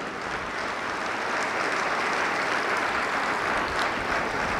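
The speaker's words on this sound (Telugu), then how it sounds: "గట్టిగా చప్పట్లు కొడదాం" Audience applause at a church talk on faith formation: a dense, even wash of clapping from many hands, sustained and fairly loud throughout with no voices on top.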